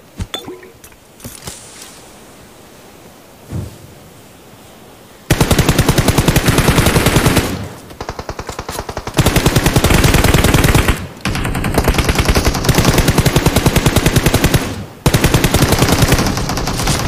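MG3 machine gun in a video game firing long, loud, sustained automatic bursts in several stretches separated by short pauses, preceded by quieter scattered shots.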